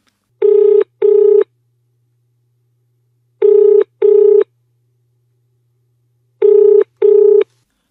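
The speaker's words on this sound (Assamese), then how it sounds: "ফোনটো বাজি উঠিল" A telephone rings in three evenly spaced double bursts, each a loud electronic trill separated by silence, close and clear with nothing else heard.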